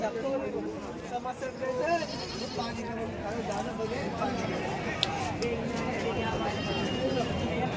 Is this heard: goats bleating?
yes